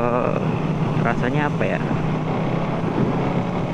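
A Suzuki Satria F150 fuel-injected motorcycle ridden home after its first service gives a steady engine drone with road and wind rumble throughout, while a rider speaks briefly over it.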